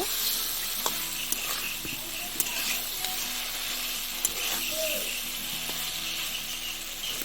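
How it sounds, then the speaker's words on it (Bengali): Fried fish is stirred into a sizzling spice masala in a pan for a fish curry. Oil hisses steadily while spoon scrapes and clinks land at irregular intervals. "এতে মাছগুলো দিয়ে দেবো, ভেজে রাখা মাছগুলো। সব কিছু মশলার সঙ্গে ভালো করে মিশিয়ে নেব।"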